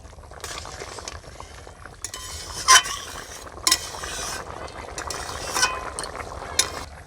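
Ritha fish curry cooks in a pot, giving a soft sizzle and bubble under a spoon stirring and scraping, with a few sharp metallic clinks of utensil against the pot rim.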